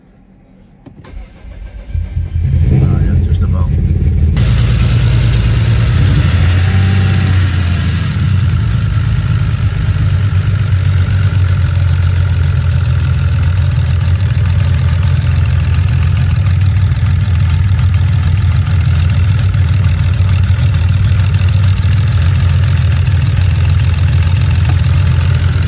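A BMW 335i with an N54 engine, just after a coil swap, cranks and fires up, then settles into a steady, loud, continuous idle close by with no talking.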